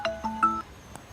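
Mobile phone ringing with an incoming call, a short bright melodic tone of three quick rising notes, fairly close and clear with no talk over it.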